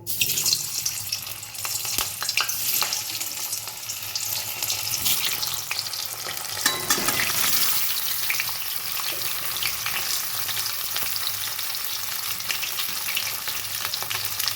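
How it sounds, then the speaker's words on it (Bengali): Boiled small potatoes fry in hot mustard oil in a kadai, giving a steady, close sizzle with occasional stirring and scraping clatter running underneath. "কড়াইতে সর্ষের তেল গরম হয়ে গেছে। সেদ্ধ করা আলু আমি প্রথমে ভেজে নেব।"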